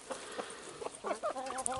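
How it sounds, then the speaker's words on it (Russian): Chickens clucking up close in a farmyard flock of hens and chicks being fed watermelon, a run of short, choppy calls that grows busier toward the end over faint background noise. "Курочки мои."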